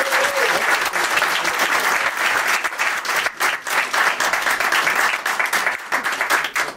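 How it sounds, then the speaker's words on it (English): A conference audience breaks into a loud, sustained round of applause, dense clapping filling the hall evenly for several seconds. "a massive, huge round of applause for Rob Freeman"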